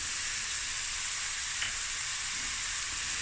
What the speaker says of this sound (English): now we're just going to fry the onions until it's golden brown